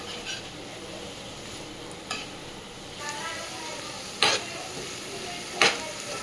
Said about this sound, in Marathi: आणि नंतर हे 4 वेलची आहे, ती पण कुटून घेतलेली आहे, आणि मस्त आता मिक्स करून घ्यायचं